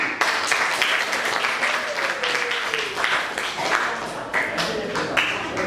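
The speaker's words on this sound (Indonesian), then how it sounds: "Beri tepuk tangan" Applause in a classroom for a student group as it comes forward to present its science work, steady close clapping from many pupils throughout, with voices talking over it.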